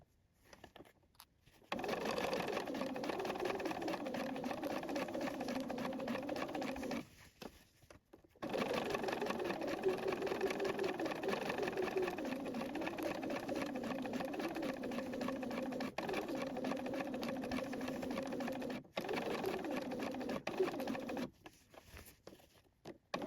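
A sewing machine stitches a seam 1 cm from the fabric edge on a top, running in long close bursts of rapid rhythmic chatter separated by short pauses, with no speech.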